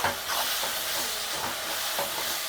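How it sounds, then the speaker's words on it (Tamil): Prawn gravy ingredients sautéing in a pan, a steady close hiss and sizzle with faint stirring scrapes throughout, no voices. "நல்லா வதங்கட்டும்."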